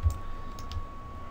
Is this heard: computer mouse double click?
yes